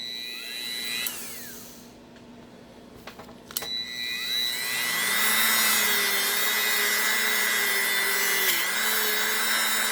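A high-pitched motor whines and spins up, then a steady abrasive whirring hiss of a buffing wheel with Novus polish grinding against a slot car body continues, with no talking.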